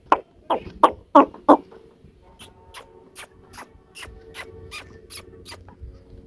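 A series of short, sharp chicken clucks repeats at a steady rhythm, loud at first then softer, with faint background rustling and no talking.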